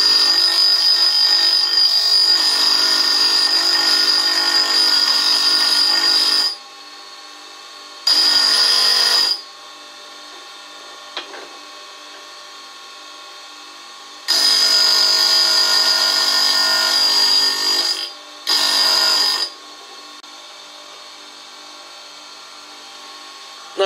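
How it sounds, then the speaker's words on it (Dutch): A screwdriver tip is ground on a bench grinding machine with coarse and fine stones, giving a steady, loud whining hiss in several long passes separated by short pauses, with the motor humming at a constant pitch throughout. "We kunnen nu beginnen met slijpen."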